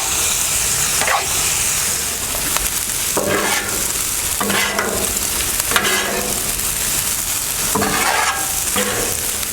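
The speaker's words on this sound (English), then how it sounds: "Now we're going to get this rice down right into those steak renderings" Rice frying in rendered skirt steak fat for habanero fried rice, a steady close sizzle with repeated scraping stirs of a utensil through the pan at an even pace.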